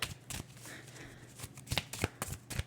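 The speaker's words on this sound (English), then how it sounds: "it's a little hard for me to shuffle this deck" A deck of oracle cards shuffled by hand, with soft sliding rustles broken by sharp slapping clicks that cluster toward the end, quiet and close with no talking.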